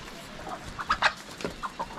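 Rooster and hens clucking on a farm during a rooster catch, a series of short bursts of clucks and squawks up close, with no voices.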